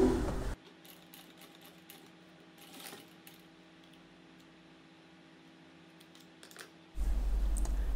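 Sewing machine running steadily while stitching over a zipper on a garment, a continuous low mechanical hum with light clicking that lasts several seconds between louder handling noises at start and end.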